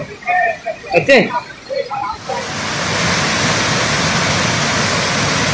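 Kothapalli waterfall in Alluri district roars as a steady, loud, broadband rush of falling water that fills the scene after a few seconds of people talking nearby.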